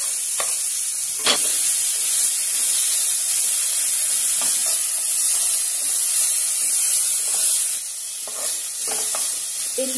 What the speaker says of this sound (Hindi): अब इसी कढ़ाई में मैं शिमला मिर्च और प्याज डालती हूँ और इसे भी 1 मिनट तक भून लेती हूँ।